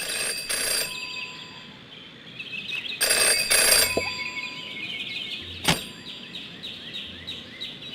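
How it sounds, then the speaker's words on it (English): An old-style telephone bell rings in the Jenny LeClue detective video game, bursts of bright ringing repeating a few times over a quiet ambient background. "Jenny had learned never to ignore a ringing phone."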